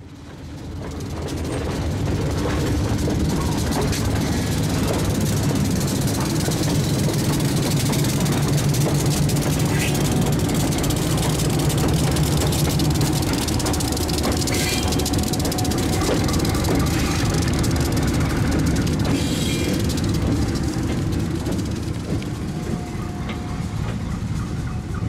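Ex-Conrail Super 7 diesel locomotives on an Ohio Central Railroad freight train at a line's end rumble steadily for the whole stretch, a heavy engine drone with rail and wagon noise, fairly loud and continuous.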